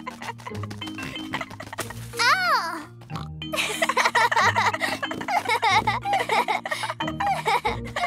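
Cartoon piglet oinking in a playful children's snow scene, short squealy grunts mixed with giggles and childlike chatter over background music.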